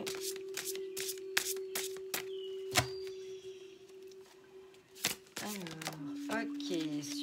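Tarot cards shuffled by hand in a quiet room, a series of crisp, sharp riffling snaps and taps at close range, with a voice speaking briefly near the end.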